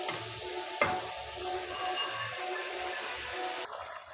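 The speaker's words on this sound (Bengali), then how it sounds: "ফুটছে তরকারিটা" A thick vegetable curry cooked with little water simmers in a pan, making a soft, continuous bubbling sizzle with a sharp tick near the start, heard close up and without talk.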